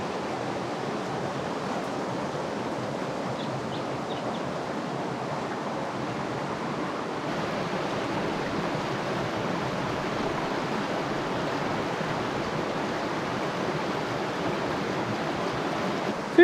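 A river in the Buckland Valley bush runs steadily, a broad, continuous rush of flowing water close by with no break for the full length and no voices over it.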